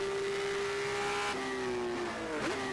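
A race car in rFactor held at full throttle: steady high engine drone rising in pitch, then shifting up with brief dips before climbing again, loud and continuous with no talking.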